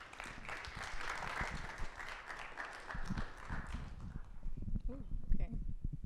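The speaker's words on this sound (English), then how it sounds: "Let's give a round of applause." Audience applause at a talks event, a broad wash of clapping for about four seconds that fades as a speaker begins talking at a microphone.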